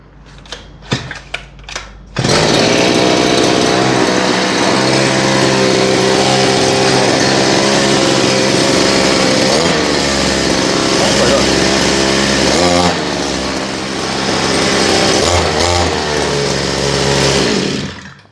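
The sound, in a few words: bicycle powered by a soil auger engine running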